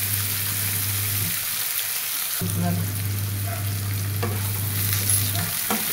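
Spring onion greens and tender young onions sauté in oil for Bhogi vegetable curry, a continuous close sizzle with stirring, a low hum underneath and brief clinks.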